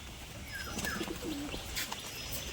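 A male pigeon with white eyes and feathered feet coos softly a few times, close by, over light background noise and faint chirps.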